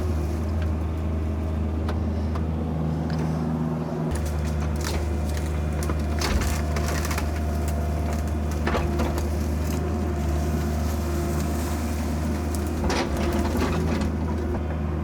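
Caterpillar excavator digging a steep hillside road through rock, its diesel engine holding a steady, loud, low hum, with intermittent scraping and clanking bursts from the work, and no talk.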